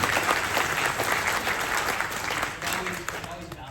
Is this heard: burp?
no